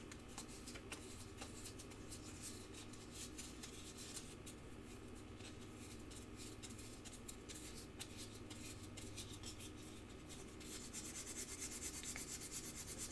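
A metal piece is buffed by hand with a cloth, producing a soft, continuous rubbing and swishing that stays faint and close throughout, with no voices.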